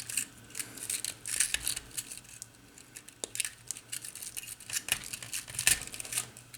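Wires on a vector yoke being snipped with cutters, a series of small, sharp clicks and snaps at irregular intervals, close up, with light rustling between cuts and no talk.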